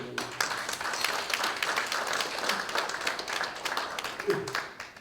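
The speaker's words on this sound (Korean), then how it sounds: "박수 한번 주십시오" Audience applause fills a Korean lecture hall during a philosophy talk, a dense, steady patter of many hands that trails off near the end while a voice murmurs under it.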